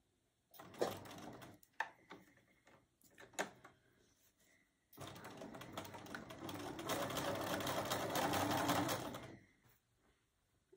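A sewing machine stitches fabric for a fold and stitch wreath, first in short stop-start bursts, then in one longer steady run of rapid needle chatter, close and alone.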